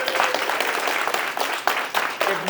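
An audience at a Mogul Elite Club event in Brooklyn bursts into sustained, dense applause, a close, loud wash of clapping with a few sharper bursts and faint voices mixed in.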